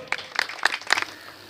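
An audience at a public gathering in Union Council Fatehpur applauds to welcome Sardar Nasir Khan Baloch: a brief, scattered burst of clapping that fades within about a second.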